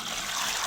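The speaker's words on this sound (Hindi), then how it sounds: "ये पानी मैंने गर्म रखा था और अब मैं नहाने लगी हूँ।" Steady running water for a bath, warmed beforehand, pours or trickles continuously and close by with no talk over it.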